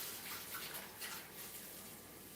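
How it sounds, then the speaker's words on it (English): Fresh water poured into a cat's water bowl, a soft continuous splashing gush, fairly faint and steady without talk. "I'm changing the cat's water right now."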